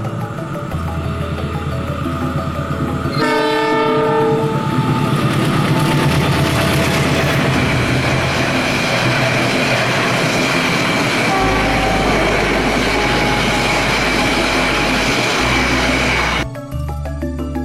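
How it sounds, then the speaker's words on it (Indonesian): The Sancaka passenger train from Yogyakarta passes near a flyover as a loud, continuous rumble of wheels and carriages. A horn sounds early on and again with a tonal blast, and the roar stays close and heavy until it cuts off near the end. "kita merekam kereta api Sancaka dari Yogyakarta yang lewat"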